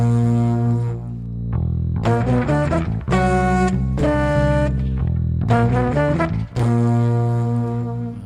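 Playback of a music mix from a mixing session, with tuba carrying the melody over bass; loud, sustained harmonic phrases start and stop in several sections, with no talking.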